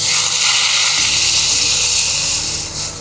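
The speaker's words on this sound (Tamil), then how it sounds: "தட்டி வச்சிருக்க மிளகு அதோட சீரகம் வறுத்துட்டு நீர் விட்டுக்கலாம்" Water poured into a hot pan of dry-roasted crushed black pepper and cumin, a loud steady hiss of steam and spray that holds for about three seconds, then eases slightly at the end, with no talking.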